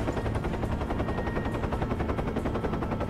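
A helicopter comes under dense gunfire in the Prototype 2 video game, a continuous rapid rattle of shots with rotor noise, loud and steady, with no talk.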